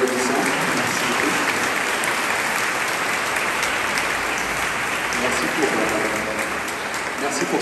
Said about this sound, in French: Je pense qu'on peut remercier Laurence et le Père en les applaudissant.